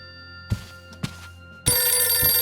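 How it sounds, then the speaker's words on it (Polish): A telephone rings in the Stroke Of Fate video game, with a couple of soft thuds first and then a loud, continuous bright ringing that starts abruptly and fills the rest of the clip. "O, telefon dzwoni."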